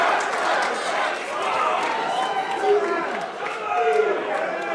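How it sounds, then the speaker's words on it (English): A pub crowd watching a live wrestling match roars and cheers in a continuous swelling wash of voices, loud and sustained, with shouts rising above the mass throughout. "Listen to this crowd."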